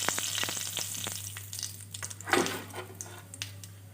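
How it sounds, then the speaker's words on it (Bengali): Cumin seeds and bay leaves frying in hot oil left from cooking potatoes, a steady close sizzle with small crackles and spoon taps, one louder burst midway. "এবার ওই একই তেলে দিয়ে দিচ্ছি 1 চামচ জিরা আর 2টো তেজপাতা।"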